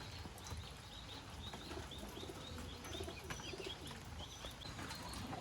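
Pigeons bred for sale coo softly and repeatedly over a dense background of bird calls and noise, a steady, moderately distant murmur with no speech.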